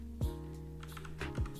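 A few key presses on a computer keyboard give soft, quiet taps over a steady low hum. About two clear clicks stand out, with no speech.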